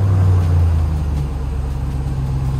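A stock Dodge Hellcat engine, deep and loud close by, holding a steady low rumble with a slight rise and fall as it is revved.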